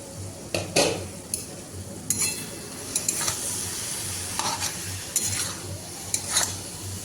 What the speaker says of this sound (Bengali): কপিটাকে কিন্তু খুব ভালোভাবে ভাজতে হবে